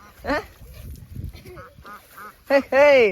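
Ducks quack loudly nearby in short, harsh bursts, with a person speaking in between the calls.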